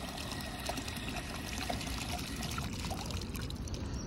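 A bulldog laps water from a bowl, a quiet continuous wet splashing and trickling sound that carries on steadily throughout.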